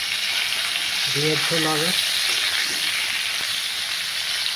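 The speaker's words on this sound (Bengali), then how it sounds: "আলুটা লাল করে ভেজে নিচ্ছি ভালো করে।" Potatoes fry in oil in a pan with a steady, fairly loud sizzle and hiss throughout, while a voice speaks briefly near the start over the frying.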